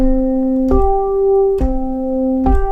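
Two tones a perfect fifth apart sound one after the other, a lower note then a higher one, each note separately struck with a soft attack, played twice in a row.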